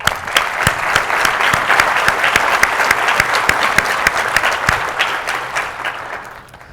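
A room full of attendees at a cryptography conference bursts into loud, close applause, a dense crackle of many hands clapping steadily before thinning out and fading at the end.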